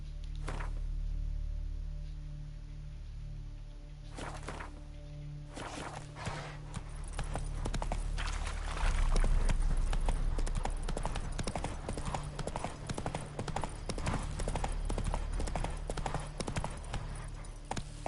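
Hooves of Roach, a horse in The Witcher 3, starting with a few separate thuds, then breaking into a steady, fast clip-clop gallop that carries on loud and close, with faint talk behind.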